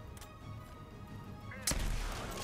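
Carbine gunfire in the video game Apex Legends, a single sharp loud shot near the end over a busy background of game sounds and low talk.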